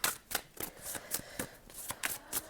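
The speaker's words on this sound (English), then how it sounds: "so let's pull out your tarot cards" Tarot cards are pulled one after another from a deck, making a steady series of about nine crisp, papery slaps and flicks, close and fairly quiet, with no talking.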